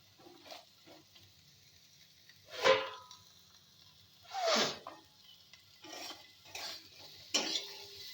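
Grains are stirred in a frying pan with a spoon, a few distinct scraping sweeps and clinks spaced a second or two apart over a faint background sizzle.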